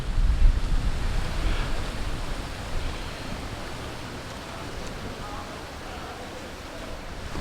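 Wind blowing across the lakeshore at Salt Spring in Ocala National Forest, with waves washing in. It makes a steady broadband rush that swells louder at the start and then holds, with wind buffeting the microphone.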